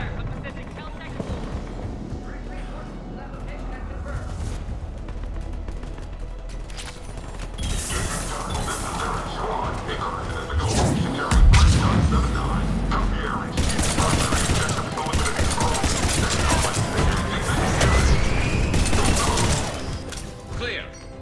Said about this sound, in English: Taking enemy fire from position.